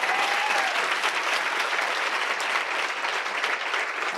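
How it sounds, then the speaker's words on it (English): A crowd applauds scholarship recipients at a summit, with continuous dense clapping that is loud and even from start to finish and has no speech on top. "Let's give them one last round of applause."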